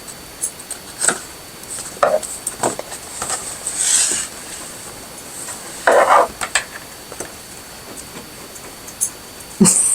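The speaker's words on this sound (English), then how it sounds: "Now she's scratching at her bed." A pet dog scratches at its bed indoors, giving a few short bursts of scraping and rustling that come and go between quiet stretches.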